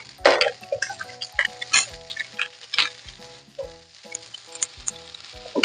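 Chile de árbol, garlic and onion char in avocado oil, crackling and popping close up in irregular bursts with light clinks of a utensil against the pan.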